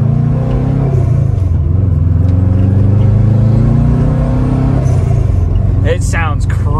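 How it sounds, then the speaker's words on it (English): A turbocharged Subaru STI-engined Forester revs close by, a steady engine drone rising and falling over several seconds, with a brief sharper turbo whoosh near the end. "You can actually hear the turbo spool like a Garrett turbo now"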